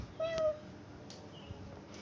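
A person imitates a cat's meow with one short, fairly loud mew, followed by faint room noise and a few soft clicks.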